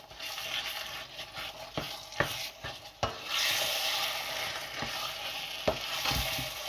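Makhaddi halwa cooks in a pan over low heat, with a steady soft sizzle under repeated scraping and stirring strokes and occasional sharper knocks of a spoon against the pan.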